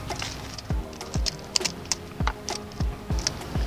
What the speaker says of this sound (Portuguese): A gente fecha aqui, ó, essa etapa com a fita transparente